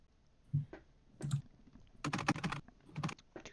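Keys on a computer keyboard are typed in short bursts of quick clicks, close and fairly quiet, with pauses between bursts.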